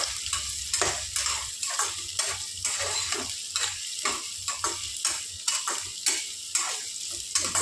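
Carrot, capsicum and green chili stir-fry in a hot pan, a steady sizzle broken by regular scraping strokes of a spatula against the metal, close and continuous.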